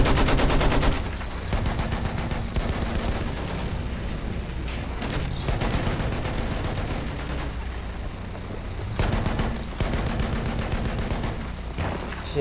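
Sustained gunfire aimed at the player in Battlefield 1, with dense, loud automatic bursts and rapid volleys running almost continuously, plus a few heavier impacts.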